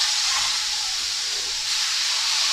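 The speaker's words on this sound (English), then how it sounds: "pop that in the frying pan." A burger patty sizzles steadily in a hot frying pan, a constant close hiss of frying that holds evenly for the whole stretch, with no voices over it.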